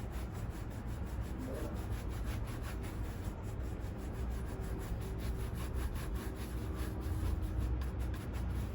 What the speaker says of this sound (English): so just kind of buffing it out so that cream doesn't get stuck in any of those little kind of detail